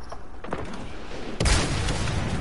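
A grenade launcher fires in a video game: a loud, heavy boom bursts in at mid-clip and rolls on in a broad rumble after quieter ambient game noise.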